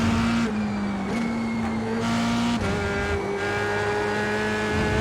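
A Formula 3 race car in iRacing at the Red Bull Ring gives a loud, continuous engine whine that steps in pitch through gear changes, with no talking.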